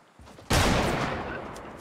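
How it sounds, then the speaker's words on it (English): A hunting rifle fires in the Fortnite video game with one loud, sharp blast, then its long noisy tail lingers, preceded by fainter low rumbling. "Dual hunting rifle. Oh, I do have a gun."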